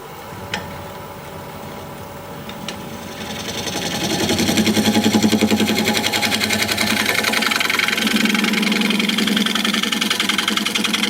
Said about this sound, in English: I'm going to sharpen up my negative rake scraper